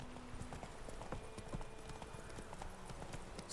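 Roach the horse trotting in The Witcher 3, a steady clip-clop of hooves with a faint whinny in the background under ambient game sound, no talk.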